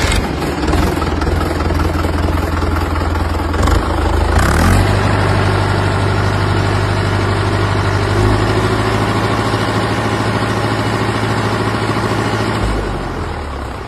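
A 2019 Mahindra Yuva 575 tractor engine starts up and settles into a loud, steady diesel idle close by, a brief surge near the start, the rumble running on evenly before dropping slightly at the end.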